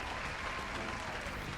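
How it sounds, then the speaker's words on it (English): Faint, dense hand-clap applause from the video game Pragmata, a continuous wash of many claps at low level. "There we go, leave the hand claps."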